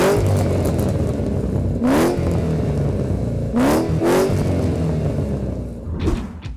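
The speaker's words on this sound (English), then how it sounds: "Now this axle back paired with that off-road X-pipe should still give us a very angry tone worthy of a GT500" A 2010-2012 Shelby GT500 with a supercharged V8, off-road X-pipe and Magnaflow Street Series axle-back exhaust revs loudly and close, with a steady rumbling idle broken by two sharp throttle blips and a final lighter rev.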